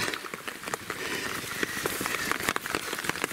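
Rain falling steadily at the old Sawayama Tunnel, a ruined spot with an abandoned car, with a dense hiss of drops and scattered sharper taps and splashes close by.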